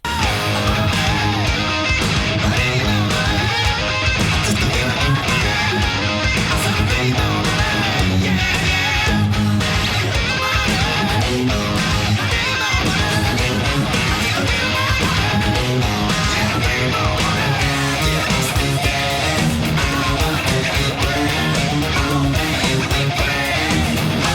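Dense, loud rock guitar and full band playing the second pre-chorus, driving and continuous throughout with no talking.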